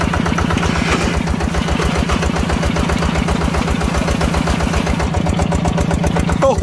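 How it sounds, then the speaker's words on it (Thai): A new Yanmar 160 tractor engine, used for ploughing a field, chugs close and loud with a fast, even, rhythmic throb that holds steady throughout. "ประเดิมเลยเครื่องยนต์ใหม่นะครับยันมา160"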